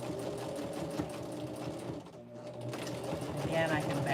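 A sewing machine back stitches a fabric pocket tissue pack cover, a close, steady rapid whirring of needle strokes with a brief pause midway, while a person talks over it.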